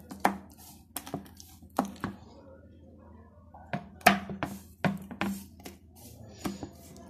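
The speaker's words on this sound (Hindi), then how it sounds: "अब हम इस तरफ से भी इसकी कटिंग करेंगे। इसको हम स्क्वायर्स में काट लेंगे।" Knife cutting sesame peanut chikki into squares, giving sharp, irregular chops and taps on a board between pauses, close by, with someone talking over some of them.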